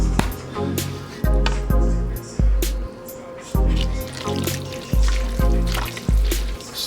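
A spoon stirs cabbage into a pot of old-fashioned beef stew with potatoes, making repeated wet squelching, sloshing strokes in an uneven rhythm, close and fairly loud.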